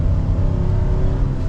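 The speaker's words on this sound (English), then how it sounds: "The V8's pretty smooth, the transmission seems to deliver the power well, and it sounds good actually." A 2024 Nissan Titan PRO-4X V8 pickup revving while driving, a loud, steady, smooth engine drone heard close and continuous with no talk.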